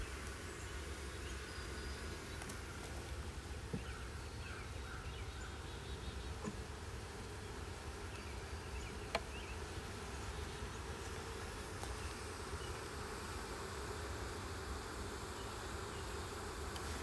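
Honey bees buzz around an open hive frame, a dense, continuous drone that holds steady and fairly faint throughout, with a few small clicks of handling.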